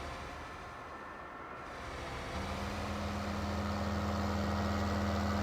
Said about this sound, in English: Articulated tractor.